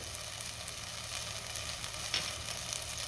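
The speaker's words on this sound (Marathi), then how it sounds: "दोन मिनटं मी मसाला चांगला परतून घेतला आहे छान तेल सुटलं आहे" Masala frying in oil in a pan for mutton curry, a steady, fairly faint sizzle that holds evenly throughout with a slight stir or crackle near the end.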